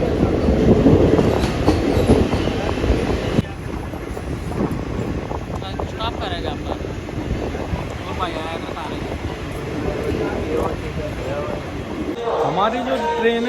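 Passenger train from Delhi toward Gogameri rumbling along the rails, with clattering wheels, a louder rush and occasional squeals, heard from inside the carriage while people talk nearby.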